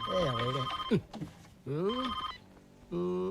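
A telephone rings in a few electronic bursts, with a person's voice cutting in between the rings.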